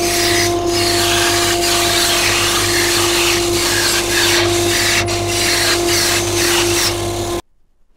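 A bandsaw runs steadily while cutting out plates for a Longworth-style chuck, a constant loud mechanical hum and whine lasting about seven seconds before stopping abruptly.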